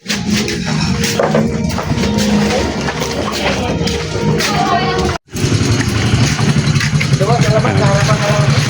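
Many motorcycles idle and rumble in a free parking area near a beach in Cavite City, a continuous mix of engines close by with people talking over them throughout and a brief dropout midway.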